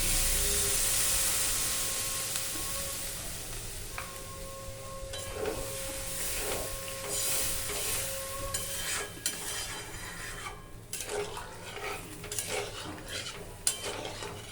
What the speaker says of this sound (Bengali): এবার একটু আমি এতে জল দিয়ে দেবো, হালকা ঝোল করব।